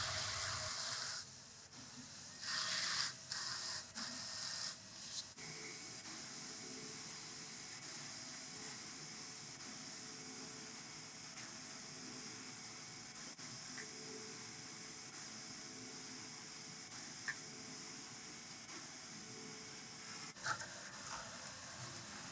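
Motorized drum carder running steadily as fiber is carded into a blended art batt on a Fancy Kitty Little Tom, giving a continuous whirring hiss with a few brief louder rustles near the start and end.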